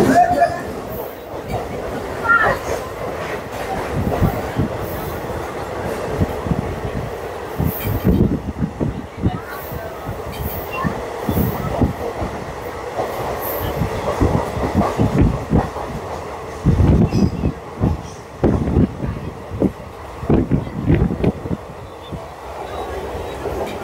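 Inside the 02897 Digha special passenger train as it runs from Santragachi, with a loud rumbling carriage and rhythmic wheel clatter over rail joints, while voices talk nearby.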